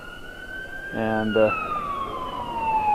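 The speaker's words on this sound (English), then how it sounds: "during the parade they had an ambulance call where the ambulance had to go backwards down the parade route." Ambulance siren wailing along a parade route, its gliding tone sweeping steadily downward across the clip while a brief burst of speech cuts in near the middle.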